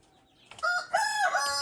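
A chicken, a young pullet, gives a loud, drawn-out vocal call, close by and alone, rising and wavering for about a second.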